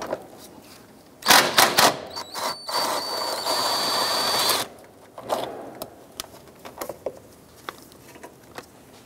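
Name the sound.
ratchet removing 10 mm air box bolt on Subaru Outback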